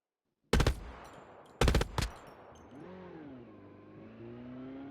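Automatic gunfire in a Call of Duty battle royale match comes as two loud, close bursts of rapid shots followed by a short echoing tail. A vehicle engine then hums and revs underneath.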